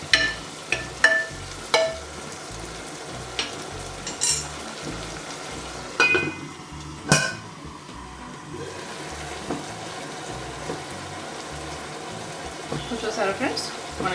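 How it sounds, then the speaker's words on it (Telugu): Tomatoes cooking in a covered pan with a pinch of turmeric, a soft steady simmer and sizzle beneath occasional clinks of a spoon against the pan and someone speaking. "చూసారా ఫ్రెండ్స్, మనకి టమాటో ఉడుకుతున్నది"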